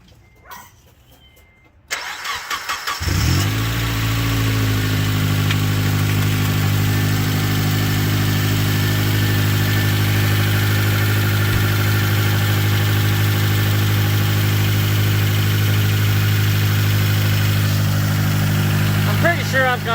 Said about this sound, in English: I'll give the engine a quick start for you guys,